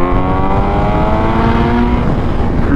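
A Kawasaki Z900 with a full aftermarket exhaust cruising under 4,000 RPM: steady engine drone with strong low rumble and harmonic exhaust tones, holding an even pace throughout, close and loud with no voices.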